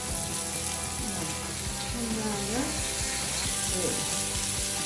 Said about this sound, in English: So we are only browning these meatballs.